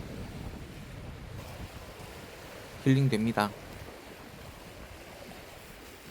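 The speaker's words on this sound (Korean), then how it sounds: "옆에 바다를 보면서 파도 소리를 들으면서 길을 걸을 수 있어서 좋네요." Sea waves wash steadily against the shore beside a coastal deck walkway on Gadeokdo in Busan, with wind noise throughout and a brief spoken remark midway.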